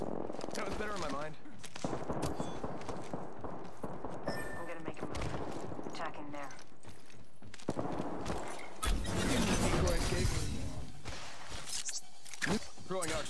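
R99 submachine gun in Apex Legends firing in rapid bursts, with dense gunfire and other weapons across the match, loud and continuous, mixed with game effects and talking throughout.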